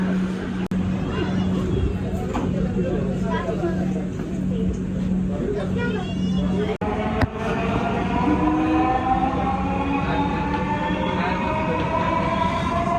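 A metro rail train runs along the line, its rumble and rising whine of motors building as it moves, heard from inside the carriage with passengers chatting and a brief sharp clunk partway through.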